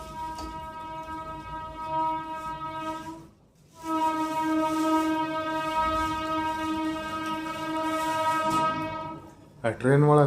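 A train sounds a long, loud, steady horn near a house during stormy weather. The horn holds for about three seconds, pauses briefly, then blares again for several seconds and ends with a short burst.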